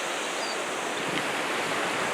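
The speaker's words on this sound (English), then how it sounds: "Found a little waterfall." Small waterfall on the Palouse River along a rail trail in eastern Washington, a steady broadband rush of falling water heard close and continuous with no voices over it.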